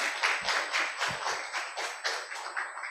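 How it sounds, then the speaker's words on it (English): Audience applause at a medical symposium on cancer care, a steady wash of many hands clapping through the whole stretch, fairly close and even in loudness. "If you could please maybe join in giving another round of applause to Dr."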